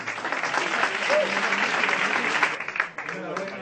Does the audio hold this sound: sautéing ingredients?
no